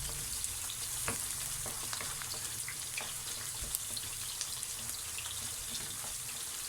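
Eggplant frying in a pan for Egyptian moussaka, a dense, even crackle of hot oil that runs throughout, with small pops and faint clinks in the background.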